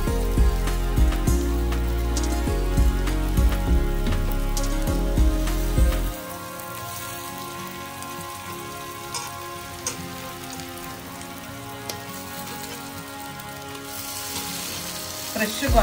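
Fresh korameenu fish pieces drop into hot oil in a pan, a loud steady sizzle and crackle with some thumps at first, then settling into a quieter, even frying hiss while a voice speaks.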